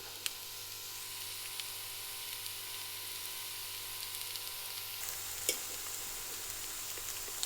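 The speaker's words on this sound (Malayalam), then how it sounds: "ചോറ് ഇട്ട് കൊടുത്തിട്ട് നമുക്ക് മിക്സ് ചെയ്ത് ചെയ്തെടുക്കാം" Cooked rice being stirred into a scrambled egg mixture in a hot pan for egg rice: a continuous soft sizzle with occasional faint scrapes and clicks of a spoon, steady and fairly quiet throughout.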